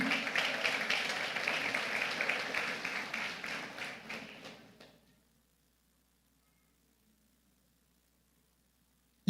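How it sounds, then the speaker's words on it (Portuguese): A church congregation claps during a sermon, a dense burst of applause that holds for about five seconds, then stops abruptly and leaves near silence. "Aplauda Jesus."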